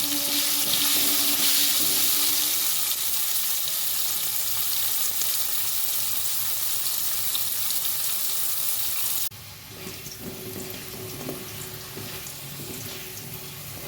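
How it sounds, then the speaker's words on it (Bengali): Potatoes frying in oil until browned for a winter vegetable curry: a steady, close, broadband sizzle that runs the whole length, dropping slightly in level partway through, with no talk. "আলুগুলো ভালো করে লাল লাল করে ভেজে দেবো"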